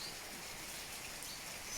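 Steady, even rain hiss with a faint bird note or two, no voices.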